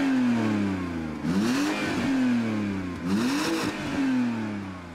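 An old BMW engine with a full exhaust, catalytic converters left in, revs up twice, climbing and falling, over a steady idle drone, close and loud.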